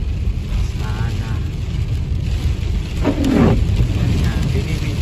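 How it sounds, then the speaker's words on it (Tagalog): Heavy rain pours steadily onto a flooded street in Los Angeles, a dense continuous wash of noise, with a brief louder swell midway that may be a distant rumble of thunder. "heavy rain"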